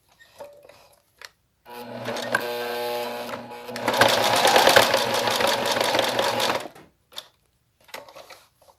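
A sewing machine stitches a seam along a zipper track on a fabric pencil case, running in a steady whirring burst that speeds up midway, with brief handling clicks before and after.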